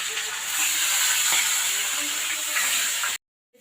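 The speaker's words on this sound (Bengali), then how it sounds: "ওই মাছের তেলে মাছ ভেজে নেবো আর কি" Fish frying in fish oil in a home kitchen: a steady loud hiss and sizzle running unbroken for about three seconds, then cutting off abruptly.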